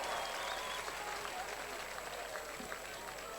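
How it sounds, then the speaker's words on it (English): Home crowd at a minor league baseball game giving a supportive cheer, a distant, diffuse wash of applause and crowd noise at a low, steady level. "A supportive cheer from the home crowd."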